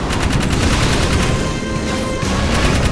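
Rapid gunfire from the Jak 3 video game, with Jak shooting at eggs in a nest, a dense steady barrage of shots filling the entire stretch at high level with no gaps.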